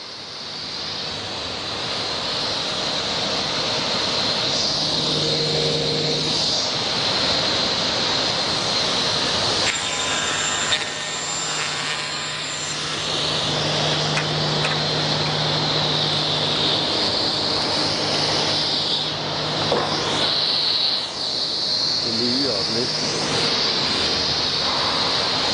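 A sliding table panel saw starts up and runs, giving a steady loud whine with a mechanical hum and a few clunks and shifts partway through, with no talk.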